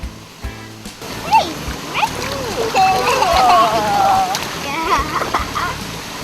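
Stingrays splash in knee-deep water around waders' legs off Oahu, Hawaii, a steady churn of close, irregular splashes and sloshes, with children's voices and squeals mixed in over the watery wash.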